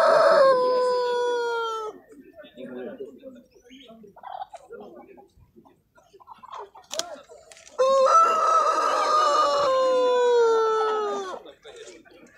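Two loud rooster crows at a market fair in Kropotkin, Russia, one at the start and a longer one later, with quieter clucking and farmyard noise in between.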